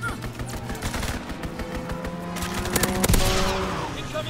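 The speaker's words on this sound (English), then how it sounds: "Enemy strafing run inbound." Enemy strafing-run gunfire in the video game Sniper 3 rattles as continuous machine-gun bursts, rising to a loud, dense peak with a heavy impact near the end, under a steady background drone and faint voice.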